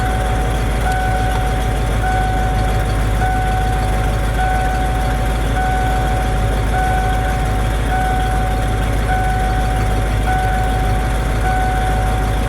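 An engine idling at about 900 RPM after a fuel pump repair, producing a loud, steady drone with a constant whine running through it, unbroken and with no voices.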